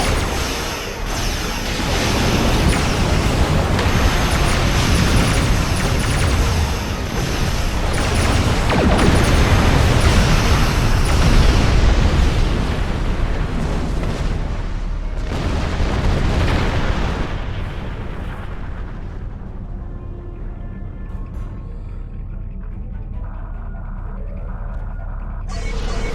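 Starship weapons fire and explosions in the Star Trek Online video game during a battle with Klingon attack ships, dense booming blasts and bursts rolling continuously at high volume, thinning toward the end.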